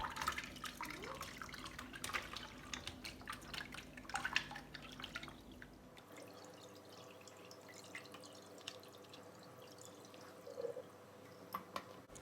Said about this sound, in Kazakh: Сырдың массасын дұршылаққа аударып аламыз.